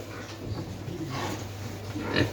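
Piglets on a farm grunting in a pen, a few soft, close grunts and snorts over a low steady hum, with one louder grunt near the end.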